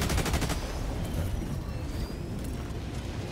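Rapid gunfire from Helldivers 2 rattles continuously through the whole stretch, a dense steady barrage at moderate loudness with no voices over it.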